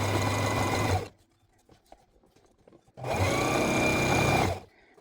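Sewing machine stitching apron fabric in two loud, steady, whirring runs of about a second and a half each, close up, separated by a quiet gap with faint handling clicks.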